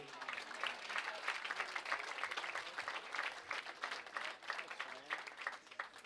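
Sustained applause fills an awards ceremony for a youth bowler, dense clapping from an indoor crowd holding steady and loud for several seconds.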